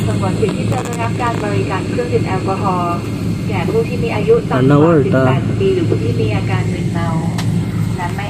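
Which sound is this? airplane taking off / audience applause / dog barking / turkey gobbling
airplane taking off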